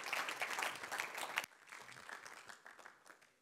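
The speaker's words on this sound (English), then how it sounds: "One more round of applause" An audience gives a round of applause after a talk on climate grief, dense clapping at first, then dropping to a thinner, quieter patter that tapers off.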